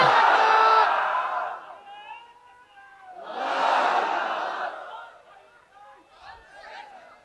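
A crowd at a Bangla religious sermon shouts the takbir response in two loud, surging bursts, followed by scattered fainter calls.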